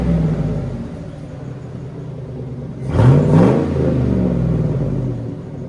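A Hummer H2's 6.2-liter V8 idles with a low rumble, then gives one sharp rev that rises and falls before settling back to a deep, close idle.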